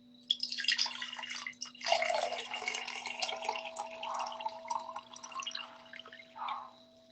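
Water pours steadily into a cup, a continuous splashing trickle that shifts slightly in pitch as it fills, with a brief break partway through.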